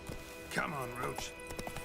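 Roach the horse in the Witcher 3 video game trotting with steady hoof clip-clops and letting out a short whinny, quiet, heard beneath a voice.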